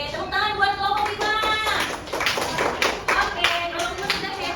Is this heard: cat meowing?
no